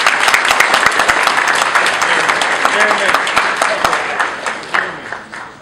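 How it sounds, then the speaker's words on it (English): Sustained applause from a large crowd, dense and steady, gradually thinning toward the end. "Again, one more round of applause, please."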